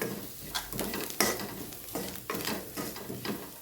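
Chili powder fries in a pan while a spoon stirs it, giving soft sizzling with repeated scraping strokes in an uneven rhythm, close and fairly quiet.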